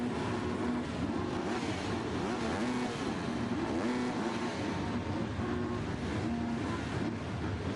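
Many MX2 motocross bikes at a Great Britain round race start rev together in a dense, continuous engine drone, loud and steady with no clear gaps.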